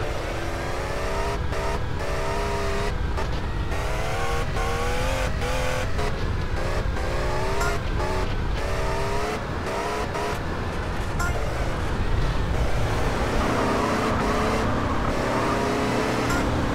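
Cars race in the GTA San Andreas video game, with loud engines revving and shifting continuously under game character voices.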